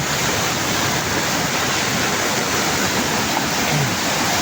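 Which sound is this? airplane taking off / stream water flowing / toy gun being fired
stream water flowing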